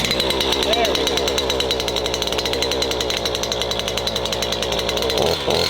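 A brush-cutting machine fitted with a lawnmower-style blade attachment clears overgrown land on a Portuguese homestead, running as a loud, steady, rattling drone close by.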